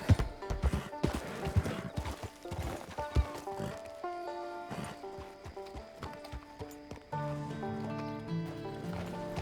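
A horse in Red Dead Redemption 2 clops along with steady, fairly close hoofbeats and lets out a whinny, all over soft melodic background music.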